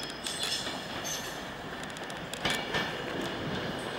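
The 11:29 service to London Euston passing at Crewe station, a steady broad rumble of rolling stock with wheel clatter and faint high squeals, fairly loud and continuous.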